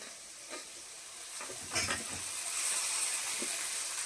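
A kilo of mutton frying with masala in a pan, a soft steady sizzle broken by a few scraping stirs, one stronger stir in the middle, all fairly quiet and close.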